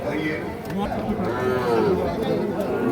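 Sahiwal bull calves at a rainy, muddy cattle market, one giving a long, drawn-out moo at close range over steady crowd chatter and background noise.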